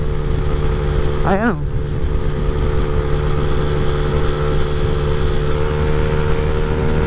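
Honda Click scooter with an upgraded throttle body idling loudly and steadily, engine drone constant throughout, with a brief voice interjection near the start.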